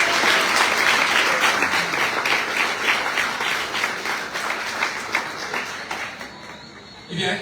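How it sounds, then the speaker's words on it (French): A crowd applauds itself at a cycling team presentation for the Tour de Guadeloupe, with loud, dense, sustained clapping that thins slightly toward the end, with some voices mixed in underneath. "Applaudissez pour vous."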